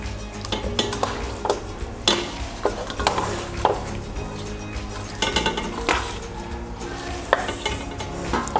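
Chicken goes into a pot for a pressure-cooker chicken biryani, with clinks of a utensil against the metal pot and soft sizzling and stirring in a steady close-up rhythm.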